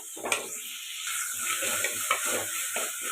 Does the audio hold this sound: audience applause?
no